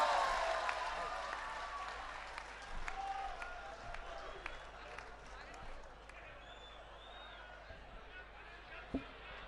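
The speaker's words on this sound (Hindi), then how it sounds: "तो अपनी तालियों से उस तूफान को आमंत्रित कीजिए जिनका नाम होता है अखिलेश द्विवेदी।" An audience at a Hindi comic poetry gathering applauds in a sustained wash of many hands clapping. It sounds fairly distant and fades gradually, with scattered sharper claps near the end.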